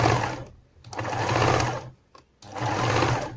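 A sewing machine stitches around the edge of a homemade fabric pincushion, running in three steady bursts separated by short pauses, close and fairly loud with no talking.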